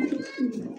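A pigeon of the gull-type fancy breed coos at close range in two low, throaty rolling phrases, clear and fairly loud, with no speech.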